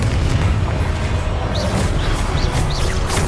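A Confringo blasting spell in Hogwarts Legacy erupts into a loud, sustained rumbling explosion that roars evenly throughout, with faint bird-like chirps over the top.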